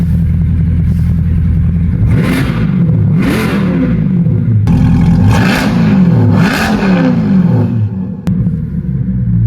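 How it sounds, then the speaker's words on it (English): A modified C8 Corvette, a mid-engine supercar, heard from inside the cabin in cold winter weather: a loud low engine rumble rising and falling through two pairs of revs, each swelling and then easing back to idle. "I'm gonna do an inside the cabin rev for you guys."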